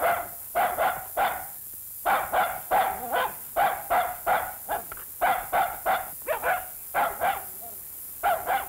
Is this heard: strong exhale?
no